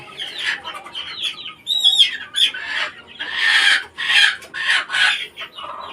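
Several chickens cluck and squawk close by, a busy overlapping chatter of hens with a brief crow-like call mixed in, no talking.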